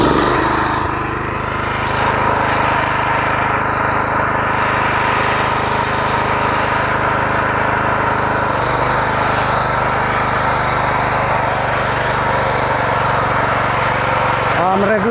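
A Rotakt MF 400 motor cultivator engine runs steadily at a set throttle while working potato rows with an adjustable ridger, a loud, continuous droning hum close by with no break.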